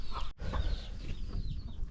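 Desi breeding hens with frizzled, upturned feathers give soft intermittent clucks in a farmyard, with a brief gap in the ambient noise and continuous low rustling around them.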